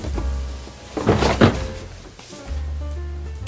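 A drawer in a bedroom closet dresser is opened and shut, giving a couple of close wooden thunks and a soft slide against a low room hum, with no voices.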